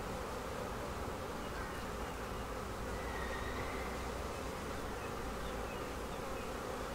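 Honey bees buzz around a beehive in a steady, dense drone from many insects close by, continuous for the whole stretch with no voices.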